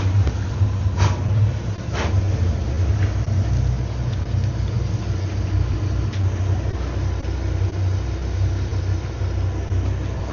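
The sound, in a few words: quad Mercury V10 Verado 400 hp outboards on 38 Outrage boat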